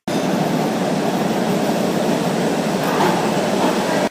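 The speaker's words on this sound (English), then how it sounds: "we're here in Boston, and we're taking the local subway" A Boston local subway train on the MBTA T gives off a steady, loud, broadband rumble that fills the whole stretch without letup and without any talking.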